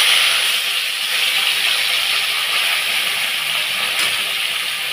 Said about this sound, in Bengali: এইবার আমি এই মাছগুলোকে দিয়ে ভেজে নেব